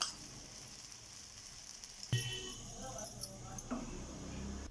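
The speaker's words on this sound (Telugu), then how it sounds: "కొద్దిగా పక్కల నుంచి నూనె పోస్తున్నాను, ఎందుకంటే ఎక్కడ విరిగిపోకుండా ఉండడానికి" Hot oil sizzles softly and steadily in a pan as a jowar flour dosa fries, with oil poured around its edges and a few small clinks, while someone talks over it.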